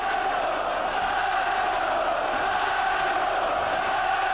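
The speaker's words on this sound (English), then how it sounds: "Crowd trying to urge Ben on with chants of Nigel, Nigel." A boxing arena crowd at a WBO super-middleweight title fight chants a fighter's name, a dense, steady roar of many voices that fills the whole stretch without a break.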